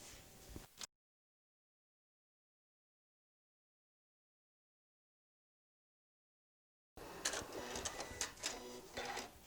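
A sewing machine stitches a quarter-inch seam on apron fabric: a short burst of clattering stitching, a long stretch of silence, then a louder, rapid run of stitching near the end.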